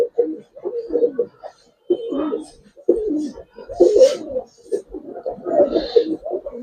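A young female Giribaz Silver pigeon coos in a run of soft, rolling bursts close by, with brief pauses between calls and faint background chatter.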